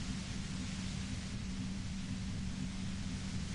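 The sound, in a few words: white noise of a compressor in Disco Elysium video game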